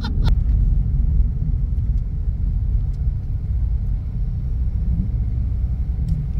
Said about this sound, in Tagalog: Pa top speed lang yung Porsche.